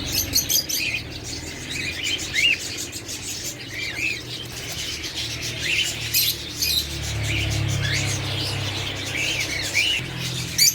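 Many small birds chirp and squawk together in a busy, continuous chorus, with a low rumble of background noise underneath.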